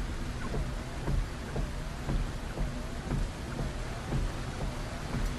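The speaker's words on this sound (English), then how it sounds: "listening to the batter of rain on metal. Ruby had forgotten the beauty and power of a thunderstorm roaring through the hills." Heavy thunderstorm rain drums steadily on a car's metal roof in hilly country, a dense continuous patter with soft rumbles rising and falling every second or so, no voices.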